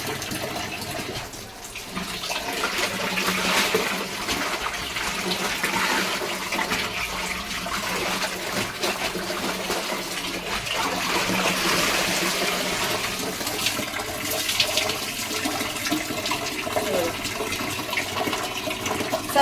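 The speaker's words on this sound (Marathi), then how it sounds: "तर मंडळी चला दोन्ही साड्या धुवून घेते" Silk sarees being washed by hand in water at home, with steady close sloshing and splashing that runs continuously throughout, with no talking.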